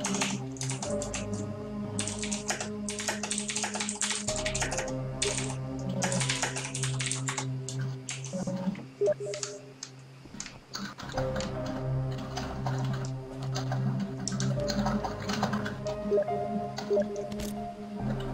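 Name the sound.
typing on a computer keyboard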